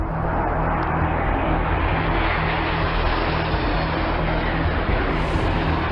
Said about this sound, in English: We have two Russian Su-24s currently conducting multiple passes at CPAs of 75 feet.